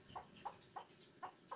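A broody gamefowl hen named Roxy gives five evenly spaced, soft clucks in a short, steady rhythm, faint and close, with nothing else heard around them.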